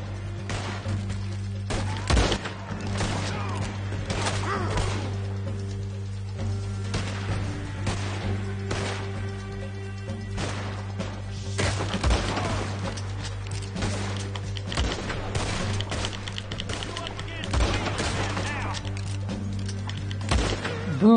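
Rifle fire in a video game, several sharp shots spread irregularly over a steady hum of game ambience and music, fairly close and moderately loud.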